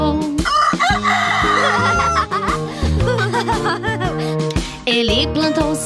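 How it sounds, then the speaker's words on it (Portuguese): A rooster crows loudly amid clucking fowl in a children's farm song, the calls layered over a busy musical backing for several seconds. "O galo acordou, o galo acordou."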